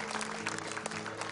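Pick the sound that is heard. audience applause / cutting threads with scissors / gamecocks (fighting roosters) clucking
audience applause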